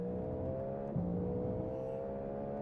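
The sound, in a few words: race car leaving the pit lane in a racing video game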